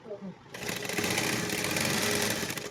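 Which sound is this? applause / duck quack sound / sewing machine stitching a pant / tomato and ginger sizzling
sewing machine stitching a pant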